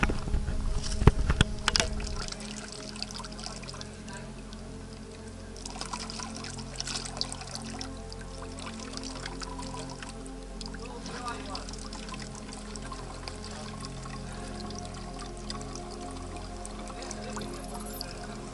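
Water pours and trickles into a drink bottle at a refill stop during a long trail run, gurgling unevenly near the microphone amid handling clatter and light outdoor background noise.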